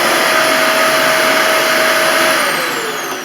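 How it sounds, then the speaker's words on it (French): A household vacuum cleaner, just cleaned with its air filter and housing cleared, runs steadily with a loud whooshing motor whine and a constant high tone, fading slightly at the end. "je branche et vous avez maintenant un aspirateur qui marche correctement"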